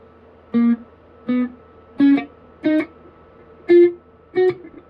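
Six single plucked guitar notes, evenly spaced and ringing briefly, played alone in a quiet room.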